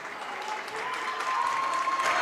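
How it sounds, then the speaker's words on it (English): A high school student section claps steadily in a gym during a Lancers boys basketball game, a dense, continuous wash of applause that swells slightly toward the end, with a faint sustained tone running underneath. "Student section coming alive, clapping it up for the Lancers"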